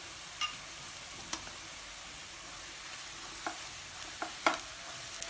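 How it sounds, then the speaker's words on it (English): Turmeric powder frying with browned onions in a pan for a simple dry okra dish, a steady low sizzle broken by a few sharp scraping clicks of a stirring spoon, with no talking. "Fry turmeric powder for half a minute"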